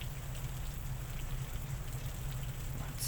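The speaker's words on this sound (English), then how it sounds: "we're not gonna have this conversation out here in the rain." Steady rain falls outdoors near a park pavilion and picnic tables, a constant even hiss with a low rumbling wash running the whole time, no voices.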